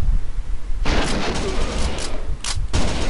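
Rapid bursts of gunfire and explosions from the arcade shooter Virtua Cop 2, loud and dense with repeated sharp blasts and a brief lull before the shooting resumes.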